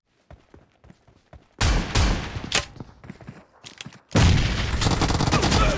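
Shotgun fire in the mobile battle game BGMI during a team deathmatch, with a run of sharp, light reports in the first seconds before two long loud bursts of heavy blasts and rumble.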